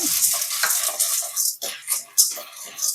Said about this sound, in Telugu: నెయ్యి వేడైనాక మనం మొక్కజొన్నలు వేసుకొని ఫ్రై చేసుకోవాలి